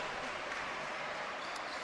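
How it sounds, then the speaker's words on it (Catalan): Arena crowd applauding at a basketball game, a steady wash of clapping from a large indoor audience that holds evenly throughout at a moderate, distant-sounding level. "Aplaudiment del pavelló a Unai Zamora."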